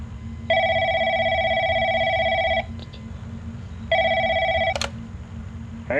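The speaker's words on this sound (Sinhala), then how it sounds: "ඔන්න කෝල් එකක් එනවා" A telephone rings in a horror video game: two long, bright electronic ring bursts separated by a short pause, loud and close over a low background hum, with no talking.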